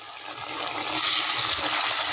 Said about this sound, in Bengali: এটাও আমি একইভাবে ভেজে নিচ্ছি।